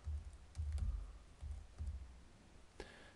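A few quiet keystrokes on a computer keyboard, soft irregular clicks in short bursts with pauses, close by and with no voices.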